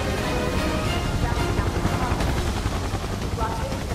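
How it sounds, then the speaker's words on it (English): Helicopter rotor drone in Final Fantasy 7 Remake, a steady loud thrum mixed with in-game battle noise throughout, with no clear rising approach. "I hear a helicopter."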